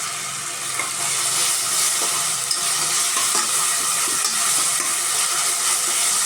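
Ginger garlic paste sizzles steadily in hot oil in a home Indian kitchen while cooking mutton curry, a continuous close frying hiss with soft stirring scrapes and no talk.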